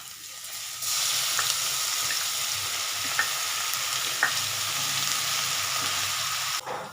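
Garlic tipped into hot oil already seasoned with whole spices sets off a loud, steady sizzle after a quiet opening, holding for several seconds with a few faint clicks before it suddenly drops away.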